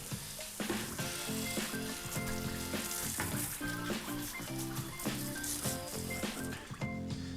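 Water sprays a bicycle to rinse off degreaser, making a steady, dense hiss that runs without a break, with music playing underneath.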